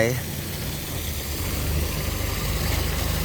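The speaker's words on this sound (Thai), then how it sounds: "โอ้ รถไถ" A farm tractor engine runs with a steady low rumble on a rural track while towing a trailer, and people talk over the noise.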